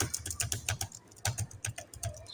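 Rapid typing on a computer keyboard, close and clear, with irregular bursts of key clicks and brief pauses and no talk.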